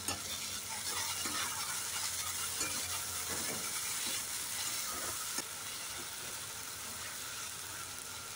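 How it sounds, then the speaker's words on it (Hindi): Onion masala fries in a pan with tomato puree, giving a steady close sizzle and hiss. A spoon scrapes and stirs it in irregular knocks, and the sound runs alone without talk. "उसी में जो टमाटर का प्यूरी था और कुछ मसाला डाले थे उसको डाल के इसको भूनेंगे।"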